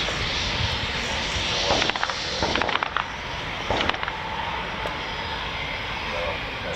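An RAF Eurofighter Typhoon FGR4 jet taxiing, a loud, steady engine whine and broad roar that stays close and constant, with a few sharp clicks and knocks over it.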